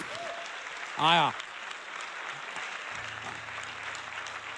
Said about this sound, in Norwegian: vi har jo da fått med oss litt applaus på boks